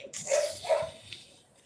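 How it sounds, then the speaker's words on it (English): A dog gives two quick, mid-pitched barks close by over a hissy room background, with no one speaking. "The dog wants to talk as well."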